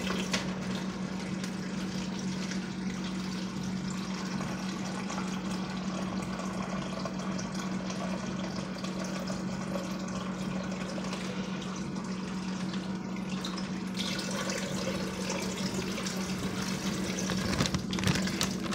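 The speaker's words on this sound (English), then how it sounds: "I'm gonna fill this up with water." Tap water gushing into a plastic ziplock bag, a steady continuous pouring rush with a low hum running under it, brightening near the end as the flow changes.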